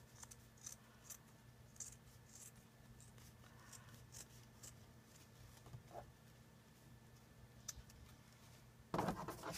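Scissors trim lace fabric for a handmade envelope, giving faint, sparse snips and light rustling against a quiet background hum, with a louder handling burst near the end.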